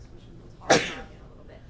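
A single sharp sneeze bursts out near the middle, loud and close, between stretches of a lecturer's talk about metabolism.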